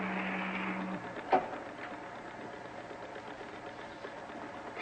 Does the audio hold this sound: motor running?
yes